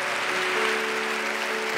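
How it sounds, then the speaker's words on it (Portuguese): Church conference audience applauding together, a dense steady wash of clapping sustained through the short moment with no voices over it. "Você pode aplaudir o Espírito Santo?"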